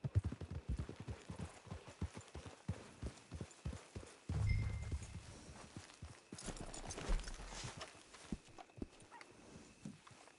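Horse hooves clip-clop in Red Dead Redemption, steady walking beats throughout with a low rumbling thump partway through and some faint background noise.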